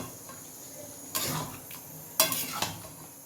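A spoon scrapes and clinks against a pot while green chicken curry is stirred, with two or three short bursts of stirring over a quiet kitchen background, near and moderately loud.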